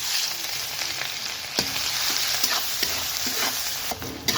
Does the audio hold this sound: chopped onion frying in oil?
yes